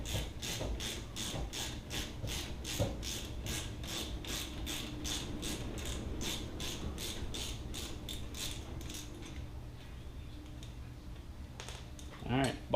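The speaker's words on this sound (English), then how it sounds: "So just get a 15 mil on the nut that's on the inside and should be able to remove that bolt." A 15 mm ratchet wrench loosens the parking brake bolt on a Jeep JK, giving a steady, close string of quick ratcheting clicks that stops near the end, followed by a brief clank.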